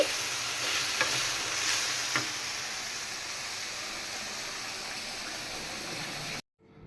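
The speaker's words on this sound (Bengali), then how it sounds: "অল্প কিছু ঢেঁড়স আমি ভাইজা নিতেছি" Okra fries in a pan with a steady, close hiss of sizzling oil, a few soft stirring taps breaking the even texture before the sound cuts off abruptly at the end.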